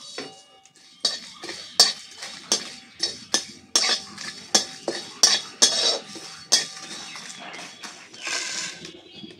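Dry red chillies and panch phoron roasting in a pan for a sour-spicy-sweet jaggery mango pickle, with a steady run of sharp metallic clinks and scrapes from stirring, close and fairly loud, about a dozen strokes in a regular rhythm.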